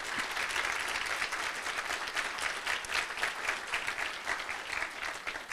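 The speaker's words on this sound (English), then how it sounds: "Round of applause for all of the people that put this program together" An audience at a regional vision launch event applauds in a dense, sustained, fairly loud burst of clapping that carries on evenly throughout.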